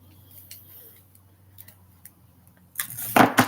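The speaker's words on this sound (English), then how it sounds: "So I'm going to go in with my cutter to cut it" A wire cutter snips jewelry wire, small faint clicks and handling noises in a quiet room, then a sharper, louder metallic cutting sound and clatter near the end.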